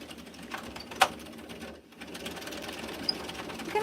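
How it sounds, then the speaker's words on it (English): A knitting machine runs fast with waste yarn, giving a rapid mechanical clatter with a sharp clack near the start, a brief pause, then steady whirring and rattling close by. "how fast does the machine go, I'll show you with this waste yarn"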